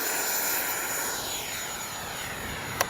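An FMS 70mm Yak 130 V2 electric ducted-fan RC jet roars steadily on its takeoff run, a broad rushing whine with a gradually shifting pitch, ending in a couple of sharp clicks.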